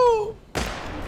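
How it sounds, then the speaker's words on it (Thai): A single sharp, loud video-game gunshot cuts in abruptly after a fading tonal sound, followed by a noisy, decaying rumble. "เสียงปืนปริศนาดังขึ้นมาอย่างจัง"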